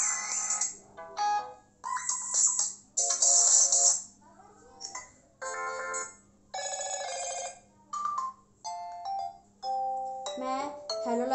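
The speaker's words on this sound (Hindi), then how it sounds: "फिर ये सारे रिंगटोन से आपको बजा के दिखा रही हूँ" Ringtones on a Motorola Moto g30 phone are played in turn: a string of short melodic chimes, ringing jingles and tones, each a second or two long and separated by brief gaps, clear and close with a faint steady hum underneath.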